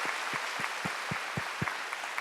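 A church congregation claps in steady unison, sharp even beats about four per second, loud and close with a dense crowd wash behind.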